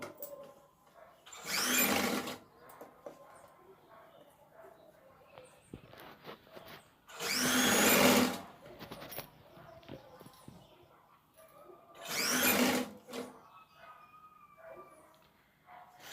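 A sewing machine stitches a blouse yoke strip in three short, loud bursts of rapid whirring, separated by quieter pauses filled with small handling noises and soft talk.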